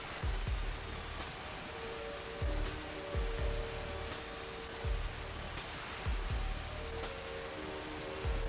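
A waterfall in a cave clearing in Red Dead Redemption 2 gives a steady, dense roar of falling water, broken by regular low thumps that recur about once a second throughout.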